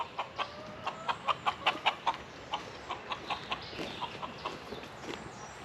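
Chickens cluck near a backyard chicken pen, a steady run of short, sharp clucks in uneven rhythm over a faint outdoor background, with no talk.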